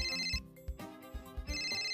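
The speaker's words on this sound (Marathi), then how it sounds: "आधी तो फोन उचल, नाही तर बंद होईल" A phone ringtone plays steadily throughout as a looping electronic melody with repeating bright tones, close and clear, with no talking over it.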